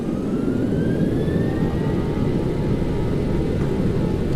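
Boeing 737-800 engines at takeoff power in the X-Plane 11 flight simulator, a steady loud roar with a faint whine rising slowly in pitch, continuous and close with no talk.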